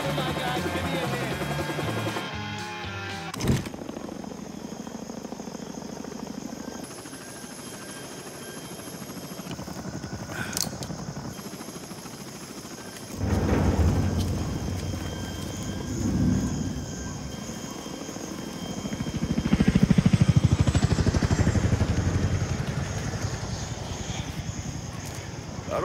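A helicopter in the video game Mafia III lifts off and flies away, its steady rotor and engine roar building and swelling as it leaves, with brief game voices and effects over it.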